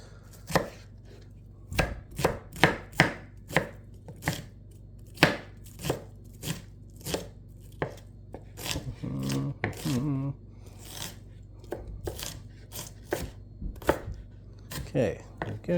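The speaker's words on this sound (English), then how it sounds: "Get your onions all chopped up." Onions chopped with a knife on a cutting board while preparing cheesy enchiladas, giving a long run of sharp, close, uneven knocks, sometimes in quick bursts, with a brief stretch of softer scraping partway through.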